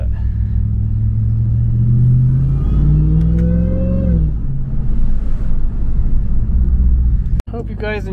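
Ram TRX truck with an aftermarket intake, engine revved in manual mode, a loud close rumble swelling in pitch then settling back to idle, with a short click and brief talking near the end.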